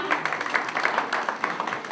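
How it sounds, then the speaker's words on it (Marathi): An audience claps at a family community gathering, a steady patter of many hands at moderate volume with voices mixed in. "टाळ्या वाजवा"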